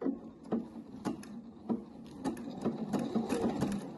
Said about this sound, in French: on fait un premier tour de couture